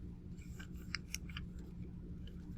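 Scissors snip through paper at close range in a few quick, light cuts clustered together, faint and crisp against a low background hum, with no voices.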